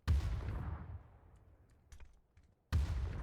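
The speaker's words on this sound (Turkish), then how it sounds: "Bomba attım oraya" A grenade blast in PUBG on a desert map: a loud, close boom with a long decaying rumble, then a second heavy explosion bursting in near the end.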